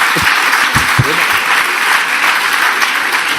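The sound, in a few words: applause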